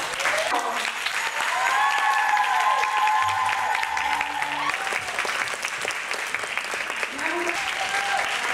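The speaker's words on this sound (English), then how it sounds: "With a warm round of applause, please welcome Zaina." Audience applause welcomes a performer onto the stage at a variety show, a sustained crowd ovation of dense clapping lasting the whole stretch, with a voice speaking over it in the middle and sustained musical tones underneath.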